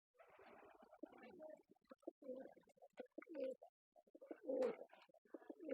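Domestic pigeons in a loft coo and murmur in soft, rumbling bursts, close and steady, with a brief louder flutter partway through; no voices.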